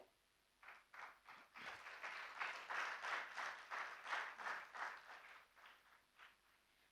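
An audience applauds at a conference session on digital financial services and health, the clapping swelling from scattered claps into steady applause before it tapers off. It sounds fairly distant and soft.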